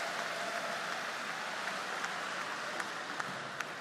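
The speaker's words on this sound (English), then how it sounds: "Let's give our champion, our Hall of Famer, another warm round of applause." A commencement crowd at Alabama A&M University gives sustained applause, a soft, distant wash of clapping with a few sharper claps standing out near the end.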